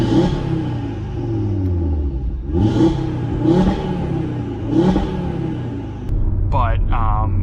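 A stage 2 tuned Audi TT RS engine revs from inside the car, several rising and falling surges over a steady rumble while someone talks over it.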